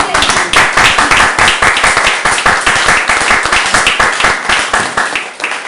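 A congregation claps and applauds loudly in a steady dense burst that lasts throughout, filling a church gathering with continuous hand claps.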